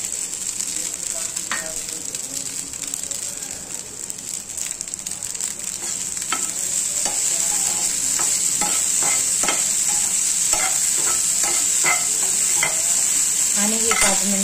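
Khichdi for a Mahashivratri fasting meal roasts in a pan under a constant bright sizzle. A spoon stirs it with repeated scraping, louder in the second half, and nobody speaks.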